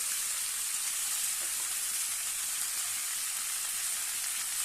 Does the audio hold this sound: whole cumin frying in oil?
yes